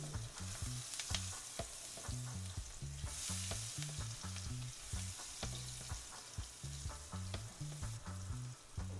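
Curry powder fries with onion and garlic in vegetable oil, a soft continuous sizzle punctuated by rhythmic stirring clicks and scrapes, with low thudding knocks at a steady pace and no talk.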